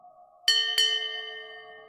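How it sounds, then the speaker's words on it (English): A ship's bell, used as a horror sound effect, strikes twice in quick succession and leaves a long, clear metallic ring that slowly fades, with a low steady drone underneath. "every year, on the same night, I wake up to hear a ship's bell outside my window"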